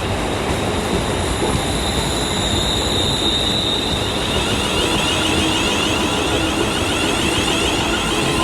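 A passenger train pulls into a station in the Liverpool area, with a loud steady rumble, a rising wheel squeal and faint rhythmic clatter of the carriages. The sound stays close and continuous, with no voices.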